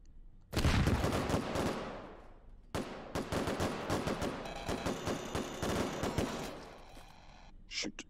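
Rapid bursts of automatic gunfire in a video game, loud and close, starting abruptly after a short pause, stopping briefly, then resuming in dense volleys before fading into scattered final shots.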